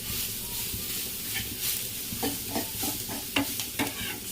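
Cumin seeds, garlic and green chillies frying in oil in a pan for Andhra gongura pappu, stirred with a spoon; a steady close sizzle with a few scraping stir strokes near the end.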